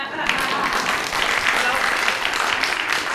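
A lecture audience breaks into steady applause, a dense wash of clapping that holds evenly throughout.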